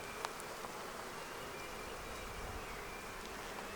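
Honey bees swarm around open Flowhive frames with honey and brood, a dense continuous close buzz filling the whole stretch with no voices.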